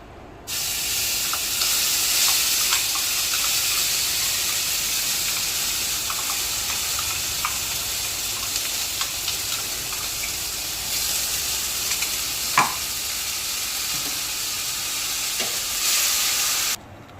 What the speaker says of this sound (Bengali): ওই মাছ ভাজার তেলের মধ্যে আমি মশলাটা দিয়ে দেবো